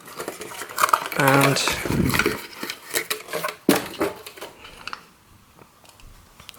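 A Black and Decker drill charger is pulled from its cardboard packaging, with close rustling, scraping and light clattering under a man's speech, fading to quieter handling toward the end.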